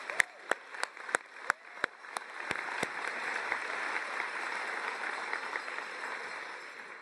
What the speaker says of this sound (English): You deserve one more round of applause at least.